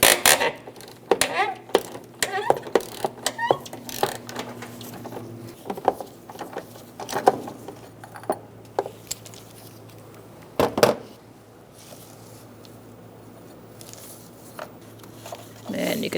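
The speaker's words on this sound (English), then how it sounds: "Using a 12mm socket and a long extension, we are going to take out this hold down." A 12mm socket on a long extension works loose the battery hold-down in a 2012-2017 Hyundai Accent, giving sharp metallic ratchet clicks in quick bursts that thin out into quieter tapping near the end.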